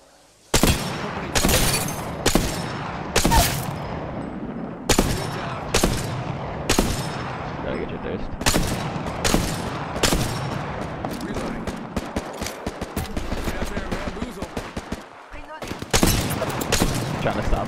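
Rapid bursts of gunfire from an Apex Legends match, with loud repeated shots and sprays crackling through most of the stretch and a few brief pauses, while players talk over the action.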